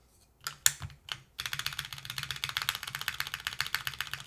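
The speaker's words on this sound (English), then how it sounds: "It's just the warped spacebar." A few loose taps lead into fast, steady typing on a keyboard with a warped spacebar, each keystroke a crisp click with a hollow rattle, close and clear with no one talking.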